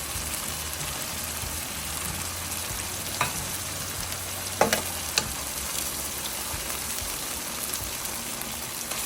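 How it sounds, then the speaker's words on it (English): Ground beef with organic tomato sauce, diced tomato and dry seasonings frying in a pan, giving a steady low sizzle with a few brief scrapes of stirring, moderately quiet and free of talk. "You wanna give this a very good stir"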